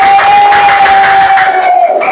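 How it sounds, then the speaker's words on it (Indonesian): Students in a classroom clap and cheer for a group that has just finished presenting, a dense, loud burst of applause and voices with a sustained tone running underneath. "kita beri aplaus untuk kelompok 1"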